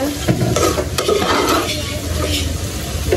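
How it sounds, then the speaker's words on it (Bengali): Onion and garlic fry in a pan on a stove for a Bengali rohu fish curry with eggplant and potato, a steady loud sizzle broken by repeated scraping strokes of a spatula stirring against the pan. "এই চুলায় কিন্তু এই যে পেঁয়াজ রসুন ভাজা ভাজা করে নিতেছি, এটা কিন্তু ভাজি করার জন্য"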